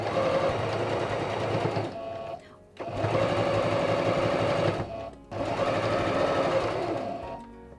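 A sewing machine stitches quilt pieces in three bursts of fast, even whirring, each a couple of seconds long and separated by brief pauses, heard close and clear.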